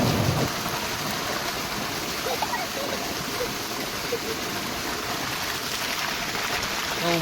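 In a village, water from a motor-pumped outlet pours in a continuous, loud, broadband rush with no pauses and no break in the flow.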